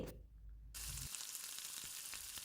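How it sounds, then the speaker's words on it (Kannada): Mustard seeds, fenugreek and urad dal fry in about two tablespoons of hot oil in a pan, giving a soft, steady sizzle that continues throughout. "ಮೆಂತೆ ಉದ್ದಿನ ಬೇಳೆ ಇಷ್ಟನ್ನು ಎರಡು ನಿಮಿಷ ಫ್ರೈ ಮಾಡಿಕೊಳ್ಳಿ"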